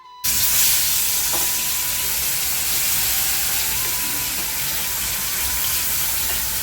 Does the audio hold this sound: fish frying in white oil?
yes